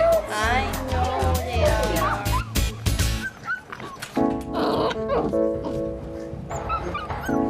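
Puppies yelp, bark and whimper in quick overlapping bursts, high-pitched and close, with short squeals and whines layered over one another throughout.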